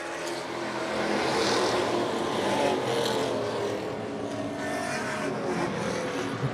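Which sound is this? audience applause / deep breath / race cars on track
race cars on track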